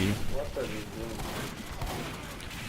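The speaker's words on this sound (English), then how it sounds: "Here I hear like rockets" Rocket launches and gunfire in a Team Fortress 2 Highlander match: a dense run of bursts and booms through the fight, with a voice faintly mixed in.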